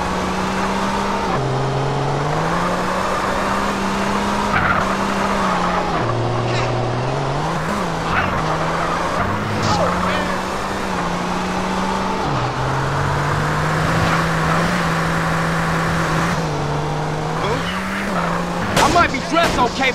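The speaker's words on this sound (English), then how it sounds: "Burnouts are cool, but they eat your tires." In a video game, a car performs a burnout, its engine droning steadily while the tires squeal in long, wavering pitch slides, loud and continuous, with a few sharp bursts near the end.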